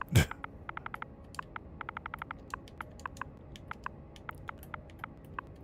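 Rapid clicks of a virtual on-screen keyboard in No Man's Sky, quiet and steady, in short bursts of keystrokes with brief pauses between them, no talking.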